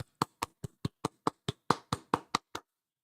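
A single person claps about a dozen times at a steady, even pace, each clap crisp and close, with no talking over it.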